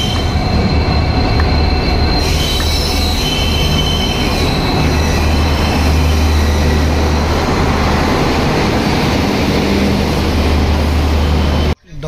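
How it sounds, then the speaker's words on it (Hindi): A train pulls into a railway station with loud, continuous wheel rumble and high squealing from the rails, carriages rolling past up close for most of the stretch before the noise cuts off abruptly. "तो दोस्तों बड़े इंतजार के बाद आई है ट्रेन।"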